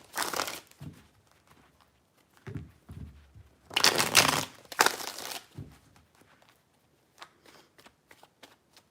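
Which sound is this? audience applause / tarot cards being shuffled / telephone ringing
tarot cards being shuffled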